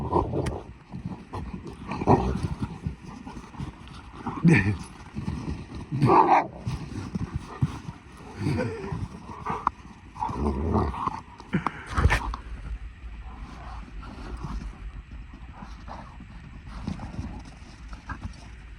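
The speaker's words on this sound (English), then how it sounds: "The dog's biting me." A dog growls and snarls in close, uneven bursts while biting a person, mixed with scuffling and rustling as if it is tussling right next to someone.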